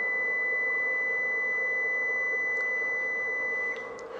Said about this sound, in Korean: 삐삐 소리가 나면서 이제 닫힐 거고요.